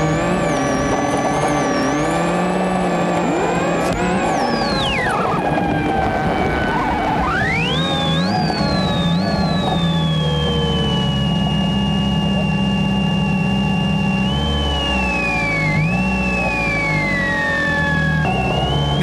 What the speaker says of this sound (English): Now the car gets going again